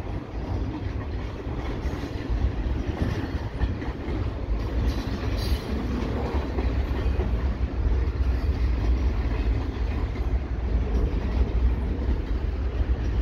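A VIA Rail passenger train rumbles steadily nearby at Dorval, a deep continuous roar with faint rattling of the cars, loud and unbroken throughout.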